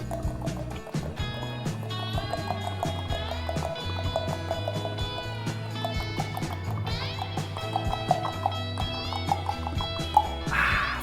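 A person clicks their tongue quickly to imitate a galloping horse, making a fast, rhythmic run of clicks that goes on steadily, with background music playing underneath.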